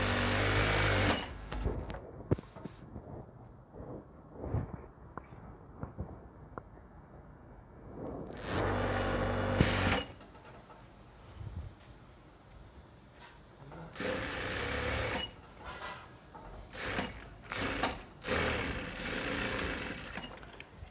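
Sewing machine stitching the lining and collar seam of a ladies jacket, running in short bursts of rapid needle chatter separated by pauses and handling rustles, close and fairly quiet.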